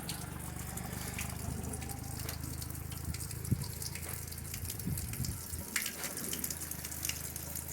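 Water runs steadily from spring troughs outdoors, a constant gushing splash that continues unbroken from start to finish, fairly close by.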